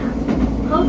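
A JR Hokkaido train rumbles steadily as it slows into a station in eastern Hokkaido, a loud low drone heard from inside the carriage with faint rail noise.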